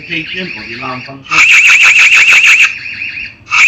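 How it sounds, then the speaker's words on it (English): A loud electronic alarm siren pulses in rapid, even beeps for about a second, after a steady high whine with a voice in the background. "You've got the alarm notification or the alarm function."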